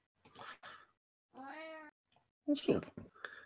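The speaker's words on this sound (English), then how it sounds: "Your cats really are chopsy." Household cats meow indoors. One clear drawn-out meow stands out, surrounded by other short vocal bursts, and a person talks around them. The sounds are fairly quiet and come from nearby.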